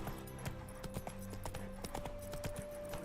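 Horse hooves clip-clop in a steady walking rhythm in The Witcher 3 video game. The distant, faint beats sit under a sustained tonal game music bed, with no speech.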